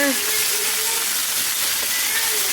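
Honey mustard pork searing in hot oil, a steady bright hiss of sizzling with faint spitting, close and continuous throughout.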